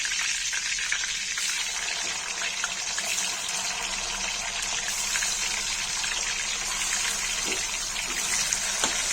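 A pan of food sizzles steadily on the stove, a dense continuous frying hiss at even loudness with faint bubbling, and no voices over it.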